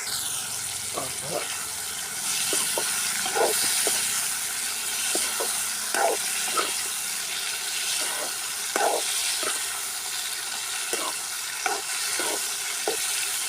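Onions sautéing in hot oil for a drumstick tamarind curry, a steady close sizzle with repeated short scraping stirs of a spoon throughout.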